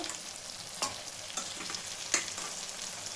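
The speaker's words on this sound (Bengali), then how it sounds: "মশলাটা কষে গেছে, এখন মাটনগুলো দিয়ে দেবো" Mutton pieces going into sautéed spice masala in a pan, giving a steady close sizzle broken by a few sharp stirring clicks and scrapes, with no voices.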